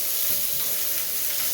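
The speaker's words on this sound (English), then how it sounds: "I gotta add some olive oil to that pan, and we're gonna just toss these onions in there." Onions sizzling and frying in olive oil in a pan, a steady, close, continuous hiss with faint crackle throughout, no talking.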